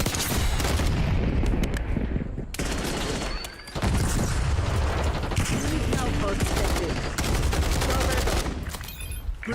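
Semtex grenade blast and sustained gunfire in a video game, dense rapid bursts of shots and booms filling the whole clip with only a brief lull midway.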